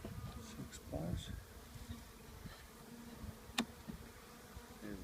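Honeybees buzz steadily around an open top-bar beehive during an inspection, a dense, continuous insect drone close by with a few brief louder passes and small knocks, no talking.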